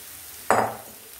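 Ragi flakes hit a hot pan with a single sudden hiss and rustle that fades quickly over a fraction of a second. The pan is otherwise quiet.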